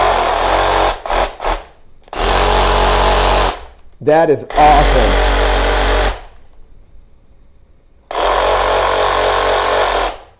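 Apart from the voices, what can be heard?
cordless reciprocating saw cutting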